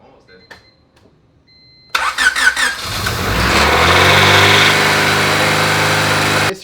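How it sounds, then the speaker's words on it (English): A turbocharged Honda Civic engine catches and starts for the first time after a brief crank, then settles into a loud, steady, high idle that runs on to the end, with faint voices before it. "It did start though."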